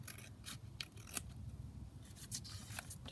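Scissors snip through a fabric scrap and lace in a series of close, quiet crisp cuts with soft rubbing of cloth between them, no talking.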